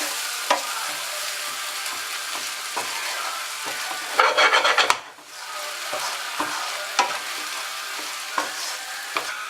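Beef vindaloo sizzles in a pan as it is stirred, a constant close frying hiss with scattered spoon clicks and scrapes and one louder burst of stirring midway.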